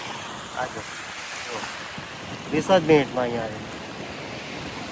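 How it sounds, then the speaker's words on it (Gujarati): Sea waves roll in on the shore at Daman, heard as a broad, steady wash of surf mixed with strong wind gusts on the microphone, while a person talks briefly over it. "ધીરે ધીરે અહીંયા સુધી આવવા લાગ્યો છે ને આ દરિયાની લહેરો"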